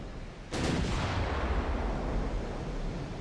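Battleship main guns fire a single heavy volley in the Ultimate Admiral: Dreadnoughts naval combat game, a sudden loud boom followed by a long rumbling roar that stays strong to the end, with no voices.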